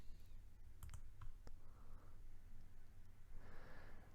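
Mouse clicks in a software settings interface: a few quick, dry clicks close together near the start, over a low steady room hum, with no talking.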